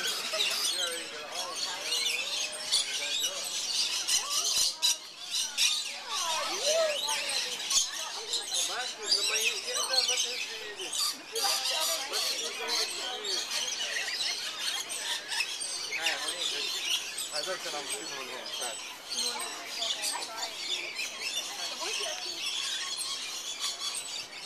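A flock of lorikeets squawks and shrieks close by in a continuous, harsh, high-pitched chatter, with people talking underneath.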